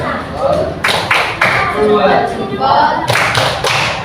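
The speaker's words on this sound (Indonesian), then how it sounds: "Kita kasih tepuk." Sixth-grade schoolchildren in an Indonesian classroom clap together for a group after its presentation, a dense burst of close claps with a teacher's voice talking over parts of it.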